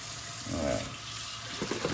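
Tap water runs steadily into a sink to rinse parts of an Aobosi slow masticating cold press juicer, a continuous close splashing rush with small clatters near the end.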